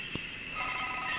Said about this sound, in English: if I hear a phone ringing, I gotta answer it, right?